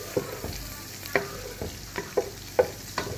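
Butter melts in a pan for sopas with a soft, low sizzle, while a utensil taps and scrapes the pan at steady half-second intervals, close and alone.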